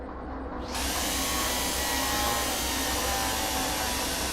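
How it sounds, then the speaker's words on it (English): An electric hand drill in a train-driving video game starts up and drills holes through a mount, a loud steady whirring drone that kicks in sharply and holds without pause. "Get your electric hand drill. Okay, put that in hand. All right, drill out 2 holes through the mount."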